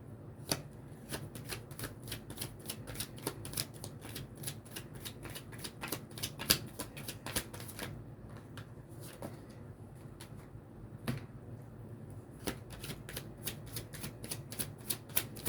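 Tarot cards are shuffled in a fast run of crisp riffling clicks and snaps at close range, steady and fairly quiet, with no voices over them.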